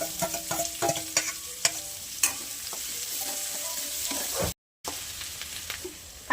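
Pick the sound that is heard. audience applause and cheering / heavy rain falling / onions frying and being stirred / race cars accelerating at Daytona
onions frying and being stirred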